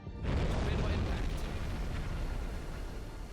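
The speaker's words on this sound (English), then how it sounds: "Torpedo impact." A torpedo strikes a ship in the Silent Hunter 5 submarine game, set in the Atlantic. It lands as one loud, deep boom followed by a long, rumbling roar that slowly fades across the clip.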